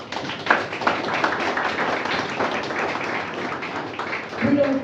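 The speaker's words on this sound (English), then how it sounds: "Another round of applause for them." An audience at a rugby sponsorship launch for the Lions applauds a new partnership, scattered moderate clapping with a voice speaking over it and a brief tone near the end.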